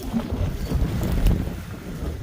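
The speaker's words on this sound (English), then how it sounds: "Super windy." Strong mountain wind near a gated mine entrance buffets the microphone with a low, rumbling roar. The gusts run continuously, and no one speaks.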